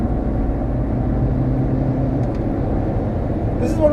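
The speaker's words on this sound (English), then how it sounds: "I think it's wind noise from the cabin." Steady broadband rush of wind noise inside a 2020 Honda Civic 1.6 cabin while driving, blended with low road and engine rumble, constant and fairly loud throughout.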